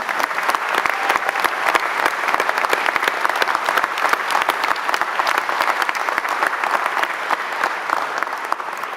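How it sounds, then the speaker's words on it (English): An audience at the CIPP graduation ceremony 2024 gives a sustained round of applause, dense, even clapping from many hands that carries steadily from start to finish without a break. "well-deserved round of applause"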